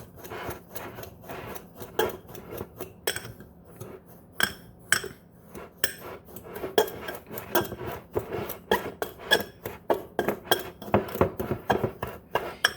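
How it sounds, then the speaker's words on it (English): A spoon stirs cinnamon vanilla sugar with vanilla beans in a glass jar, giving a quiet run of close clinks, scrapes and gritty scratching against the glass in an uneven rhythm. "Give it a stir."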